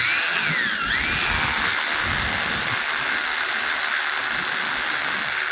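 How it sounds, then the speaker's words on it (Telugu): A power drill runs steadily at a high-rise construction site, a loud continuous whine with a brief dip in pitch near the start, no voices over it. "డ్రిల్ కొడుతున్నాడు అనమాట."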